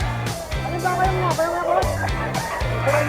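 Several gamefowl roosters of a Lemon Sweater line crow nearby in close, overlapping calls that repeat one after another.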